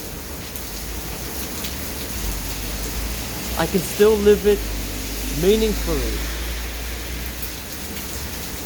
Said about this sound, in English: I'm sorry about the rain, by the way.